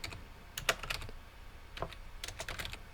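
Quick bursts of keystrokes on a computer keyboard entering a sudo visudo command on Linux, close and clear, in two short clusters with a pause between, no talking.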